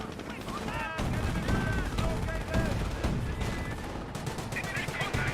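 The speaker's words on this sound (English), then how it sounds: "Rifle grenades firing away." Rifle grenades and small-arms fire crackle in a Company of Heroes battle, dense overlapping shots and blasts with constant battlefield noise and a voice talking over it.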